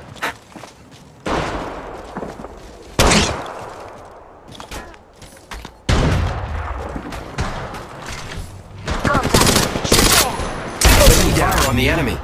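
Bursts of gunfire from the mobile shooter Apex Legends Mobile, loud sharp volleys erupting at intervals amid game effects and in-game callout voices, with heavier sustained firing toward the end.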